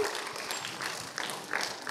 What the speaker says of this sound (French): On applaudit ce film